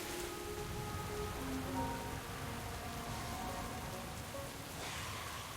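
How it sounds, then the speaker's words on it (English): Steady rain in World of Warcraft Dragonflight, a soft continuous patter of drops with faint tonal game sounds drifting beneath, quiet and uninterrupted. "And it looks like we've got a bit more rain today."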